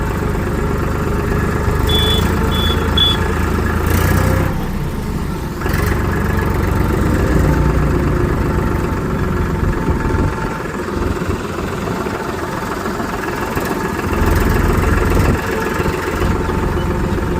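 Farmtrac tractor engine running steadily during a road test drive, a loud continuous mid-low drone with slight shifts in load, close to the microphone and without speech.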